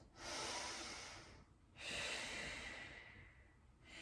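Two slow, deep breaths during a Pilates stretch, each a long airy inhale and exhale, close and fairly soft with a brief pause between them.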